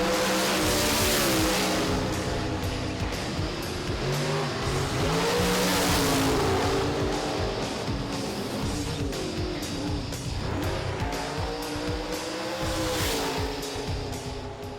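Drag racing cars roar at Sydney Dragway during a NSW Championship round, a dense, continuous engine blare with shifting pitch that stays loud throughout, with no talk.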